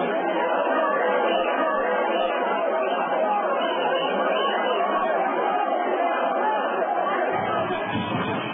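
Crowd of protesters held back by barbed wire outside the Hôtel Ivoire in Côte d'Ivoire, a dense, continuous babble of many voices at steady loudness, with a low rumble near the end.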